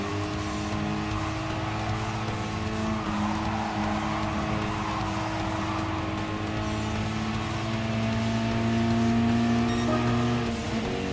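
Mazda Roadster race car engines in Gran Turismo Sport, a pack of cars droning steadily with sustained tonal engine whine and slight pitch shifts throughout, loud and continuous.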